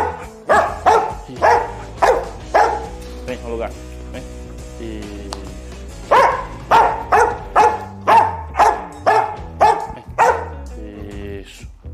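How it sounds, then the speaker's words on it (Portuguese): A dog barks repeatedly in short bursts, with a pause in the middle, while a person speaks nearby. "Agora que a gente fez esse primeiro latido sair"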